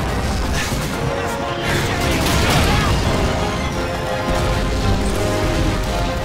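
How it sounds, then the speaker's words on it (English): A grenade blast in Call of Duty 2 lands amid loud chaotic battle noise, with crashing debris and gunfire-like bursts over a dense continuous din, and shouting voices mixed in. "Grenade!"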